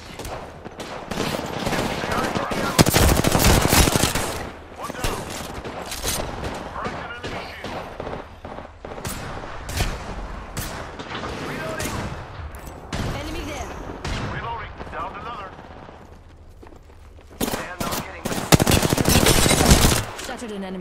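Rapid automatic gunfire and bursts from the video game Apex Legends, loud and dense throughout with heavier volleys near the start and end, mixed with in-game voice callouts.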